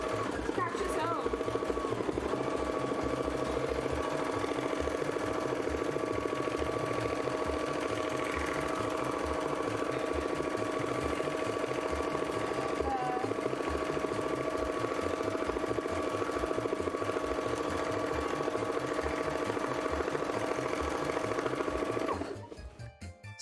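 Sewing machine doing free-motion texturing stitches with thread, running continuously and loud with a steady droning hum and fast rhythmic needle chatter for about twenty-two seconds before stopping.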